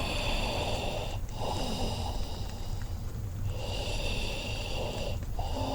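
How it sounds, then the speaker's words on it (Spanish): Heavy, labored breathing sounds close behind a narrator reading a horror audiobook, with slow drawn-out rasping breaths in a steady repeating rhythm over a constant low rumble. "el ruido de una respiración afanosa"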